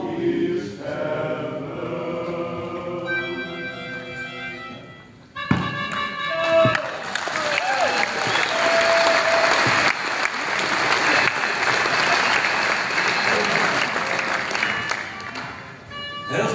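Applause breaks out from the audience at an information evening in Wijk aan Zee about graphite fallout, after the last sung notes of a protest song fade. The clapping rises quickly and stays strong and dense, with a few sharp knocks.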